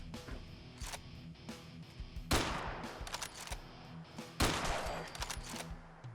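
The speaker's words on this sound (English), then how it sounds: "I took off the silencer so you could hear the sound a little bit better" Unsilenced rifle fire in Fallout 4, a few sharp loud reports with brief noisy tails ringing out over a constant low game ambience.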